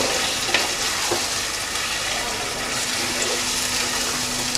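Marinated chicken frying with spices in a pan over a medium flame, giving a steady, continuous sizzle with faint stirring scrapes throughout.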